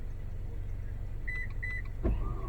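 A car's power liftgate sounds two short, high beeps close together, then gives a dull thump as the rear gate begins to move, all over a low steady idle hum.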